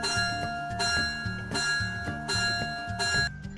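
A bright classroom-app bell chime, a short repeating melodic pattern of ringing tones with a steady pulse, played clearly and alone before stopping abruptly near the end.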